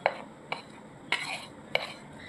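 A spoon stirs gandal leaves into gram flour batter in a bowl, with four distinct clinks against the bowl between soft, wet mixing sounds, close up and without speech.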